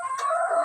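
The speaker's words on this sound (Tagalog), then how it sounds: "Manok." A chicken gives a short, close, clear cluck-like call, sustained and tonal, with no talk over it.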